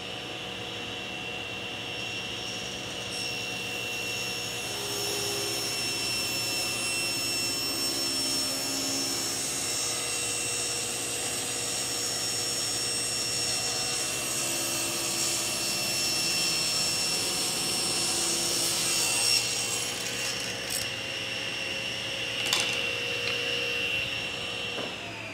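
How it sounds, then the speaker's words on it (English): Table saw ripping a taper in exotic hardwood while a dust collector runs, a steady loud whining drone holding throughout with a brief rise in pitch near the end of the cut; no talking. "the table saw is set to just barely touch here. And we're gonna turn on the dust collector and make a rip."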